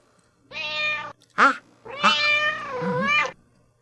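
A cat meows three times close by, a long cry, a short sharp one, then a drawn-out wavering meow.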